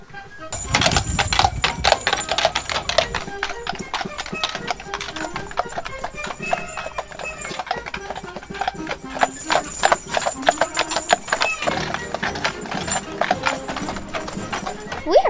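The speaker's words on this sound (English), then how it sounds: "Now we're going to ride the wagon to the farm. This carriage will take us to Hougoumont Farm." A horse-drawn carriage or wagon carries riders to Hougoumont Farm on the Waterloo battlefield in Belgium. Steady, fairly close hoof clip-clops run throughout, with dense rattling from the carriage, an early whinny and some voices in the background.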